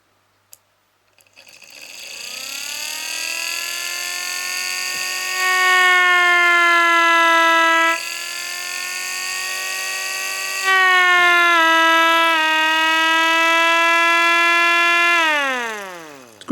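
A Chloride Gent Warbler siren running on a 9-volt battery winds up into a loud, close harmonic wail, holds and steps between warbling pitches, then winds down at the end.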